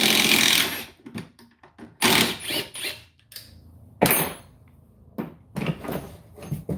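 A DeWalt power tool in a comparison against Milwaukee and Metabo runs in short loud bursts with gaps of near silence between them, the rough, noisy grinding sound stopping and starting irregularly.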